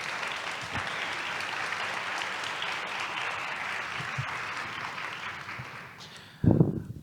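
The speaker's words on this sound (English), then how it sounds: "Ladies and gentlemen, maybe another round of applause for Emary." Steady audience applause at a roundtable event, a sustained wash of many hands clapping that slowly fades, ending with a short louder bump of handling noise.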